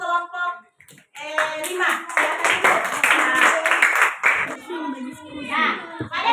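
A classroom of children clapping together for a group, a dense burst of applause lasting several seconds, with a teacher and children's voices talking around it.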